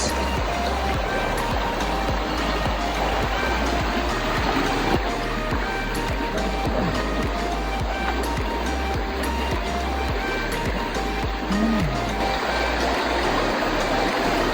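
A clear river stream in Denmark flows with a steady, close broadband wash of rushing water that continues unbroken throughout.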